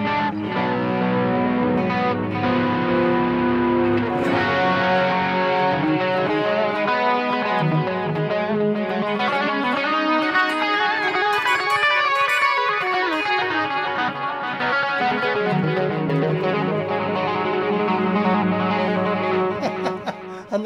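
An electric guitar dialed to an 80s heavy metal tone on a Boss eBand JS-10 plays a continuous, heavily distorted noodling passage with hall reverb, dense and loud throughout, with no voices.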